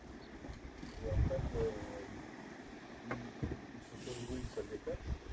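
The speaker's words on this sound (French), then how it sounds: "Il y a des vagues et du vent." Wind buffets the microphone with low rumbling gusts over faint splashing water, and voices speak briefly in the background.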